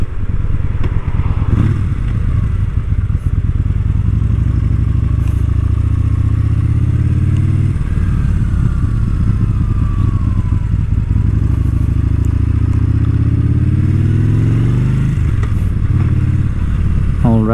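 A Yamaha Bolt R-Spec motorcycle engine drones steadily and loudly while riding, a continuous low rumble with slight pitch shifts as the throttle changes, plus faint wind and road clatter throughout.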